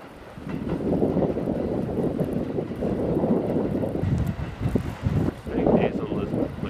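A train rumbles past during a snowy blizzard in New York City, a steady, loud, broadband roar with wind noise that swells toward the end, with no talk over it.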